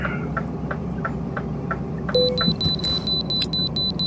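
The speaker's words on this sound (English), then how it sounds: "Hate that beeping." A truck's warning beeper in Euro Truck Simulator 2 sounds as a series of evenly spaced electronic beeps over a low engine hum, joined midway by a faster, higher-pitched repeating alert tone.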